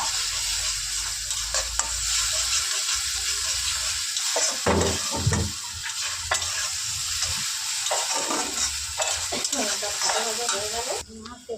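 Garlic paste frying in a pan for aloo paratha, loud steady sizzling with spatula stirring and scraping throughout, close up, then cutting off near the end.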